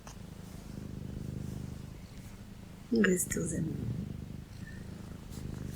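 A cat held against a person's chest purrs with a soft, low rumbling drone throughout, close and gentle, while someone speaks calmly in French over it.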